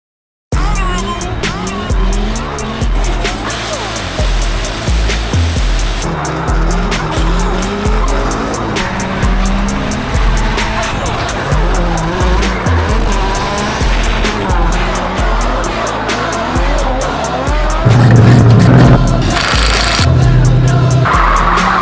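A car drifting at a grassroots drifting session: a loud, continuous engine roar with long tire squeals and skids that rise and fall for about twenty seconds, close to the microphone.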